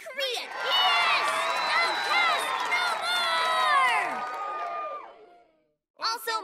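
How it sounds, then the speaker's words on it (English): A cartoon middle school crowd cheers and shouts for Libby in a loud, sustained mass of voices that swells and then fades, followed by a voice speaking briefly. "please, on my behalf, give a big, bright middle school cheer for... Libby!"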